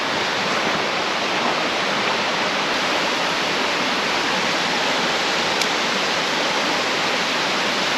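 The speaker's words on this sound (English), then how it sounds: "We have a nice little stream that comes into this creek here." A small mountain stream flowing into a creek, a loud, steady, close rushing of water that runs unbroken throughout.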